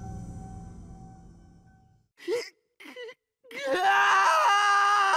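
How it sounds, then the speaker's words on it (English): A scream in the video game Spirit Hunter: NG: a low ambient drone fades, then two short wailing vocal bursts lead into a loud, sustained, rising scream close by. "A scream echoes from a short distance away."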